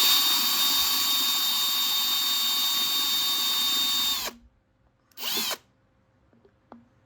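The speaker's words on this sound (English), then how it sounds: "I use a little small drill bit and go into the bottom of the bottle." A small drill bit whines at a high, steady pitch for several seconds boring into the bottom of a plastic bottle, cuts off, then gives one short burst after a pause.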